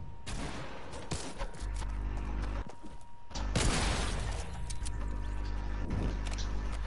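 Gunfire in a video game: bursts of close, loud shots and rapid fusillades with mechanical clatter come in several clusters over a steady low hum.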